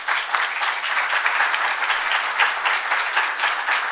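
Sustained applause from a conference audience at an employment event in a hall, a steady dense wash of many hands clapping with no pauses, loud and even throughout.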